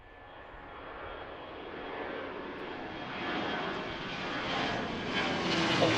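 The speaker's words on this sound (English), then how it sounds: "here comes the 757. It'll be the first one we saw take off today" A Boeing 757 jet airliner takes off at Reagan National Airport, a broad engine roar that swells gradually and grows louder as it nears, heard with no talking.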